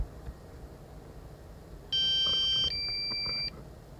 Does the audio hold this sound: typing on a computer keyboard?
no